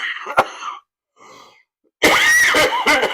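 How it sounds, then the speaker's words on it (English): A single close, loud cough into a microphone that is being covered, followed by a softer muffled cough and then a longer harsh burst of coughing and throat-clearing. "I'm going to cough it, so I'm going to cover my microphone."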